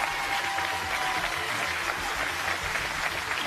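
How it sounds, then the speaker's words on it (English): Studio audience applause on a 2007 television show, a sustained, even round of clapping from a seated crowd filling several seconds, with no talk over it. "Give our witnesses a big round of applause."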